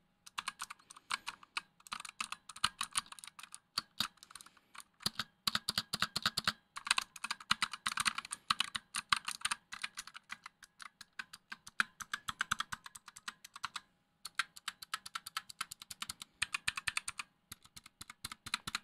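Rapid typing on a Razer Huntsman Mini keyboard fitted with purple soft keycaps, dense bursts of close, crisp keystrokes with brief pauses between runs.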